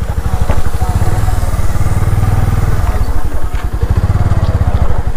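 A motorcycle engine idles loudly and close in a temple parking area at Bhola Pathar, Balod, Chhattisgarh, with a fast, steady putter of firing pulses that dips and rises slightly as the bike is parked.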